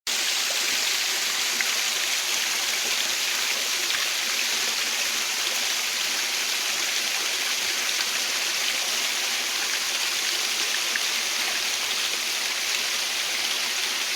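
Kanching Waterfall stream in Rawang, Malaysia, flowing as a steady, even rush of water, close and continuous with no other sounds.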